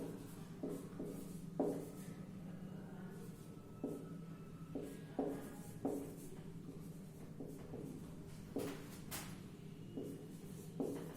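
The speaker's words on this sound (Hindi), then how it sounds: "अलजेब्रिक एक्सप्रेशंस लिख रहा हूं।" Algebraic expressions are written by hand for a polynomials class, a faint scratching of pen or chalk in short strokes and taps with brief pauses between them and no talking.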